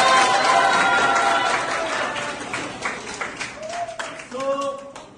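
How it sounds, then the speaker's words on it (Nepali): A room of school students bursts into loud, dense applause that slowly thins to scattered claps, with voices and a few whoops coming through near the end. "लागि ताली बजाइदिनु न।"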